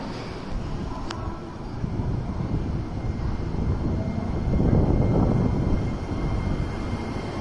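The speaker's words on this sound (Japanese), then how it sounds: "さて321系電車で運行される普通四条縄という駅が発車していきました" JR 321 series local electric train pulling out of Amagi station platform, a broad rumbling roar that swells as it accelerates away, heard from the platform with station ambience.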